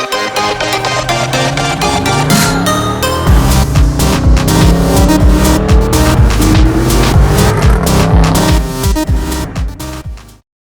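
A Dodge Charger Scat Pack fires up on a cold start: a loud crank and roar that settles into a heavy, rumbling high idle with revs surging and dipping, close and alone, cutting off abruptly at the end.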